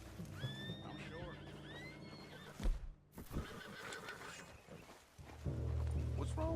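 A horse in Red Dead Redemption 2 whinnies several times in rising, wavering calls, then hooves clop and heavy rumbling noises follow, close and fairly loud, with no talking.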